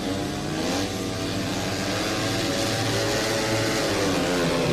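Several speedway motorcycles roar and rev together at high pitch at the start of an Under 16 250cc and Under 21 500cc solo championship race, a loud continuous drone building steadily.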